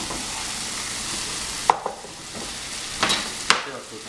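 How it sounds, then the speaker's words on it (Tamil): An egg frying in a pan while Kothu Parotta is cooked, a steady sizzle with a few sharp clicks and scrapes of a utensil against the pan. "ஒரு முட்டையை வறுத்து வைக்கணும்."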